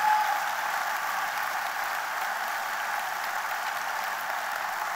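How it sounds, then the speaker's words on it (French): Steady audience applause at a political speech in Marche-en-Famenne, a dense, even wash of clapping from a large crowd that holds for several seconds. "Merci par vos applaudissements de leur envoyer un signal."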